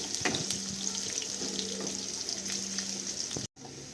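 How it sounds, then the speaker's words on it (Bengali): Chopped onion lightly frying in a pan for a spicy semolina snack gives a steady, close hiss of sizzling oil with small crackles, cutting off abruptly near the end. "পেঁয়াজটা হালকা ফ্রাই করে নেব।"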